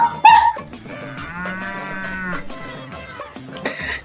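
A cow moos loudly and close, one long drawn-out low call in the middle with other bursts of sound around it; no speech.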